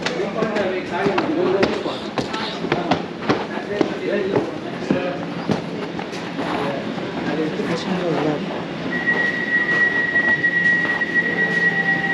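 An Elizabeth Line train bound for Terminal 5 runs with a steady rumble and clatter throughout, close by, with a high tonal whine appearing near the end and people talking over it.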